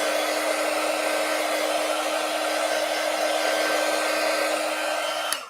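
A hair dryer blows steadily over a freshly stencilled print, a loud, close, constant whooshing roar with a steady tonal hum that cuts off abruptly at the end.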